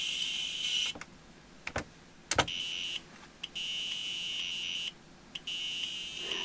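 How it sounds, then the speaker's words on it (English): Beeper speaker of a Timex Computer 2048 playing demo tones: high buzzing, alarm-like beeps that start and stop in bursts, with a few sharp clicks between them. "These are demoing what you could do with a beeper speaker"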